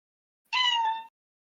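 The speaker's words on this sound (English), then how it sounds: "Cat noises." A single short, clear meow from a cat, about half a second long, sounding alone against silence.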